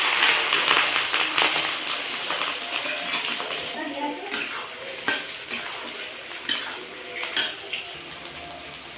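Chicken pieces for chili chicken drop into hot oil and sizzle steadily, a broad crackling hiss with a few sharper pops and stirring clatters, close by and loud, with no talk over it.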